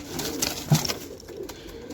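A pigeon coos softly a couple of times against a low background hum, close and brief, with no talking.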